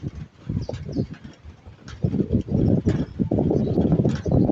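Pet pigeons in a rain-soaked loft coo and rustle close by, a steady murmur of low calls and wing movement with louder stretches in the second half and no talking.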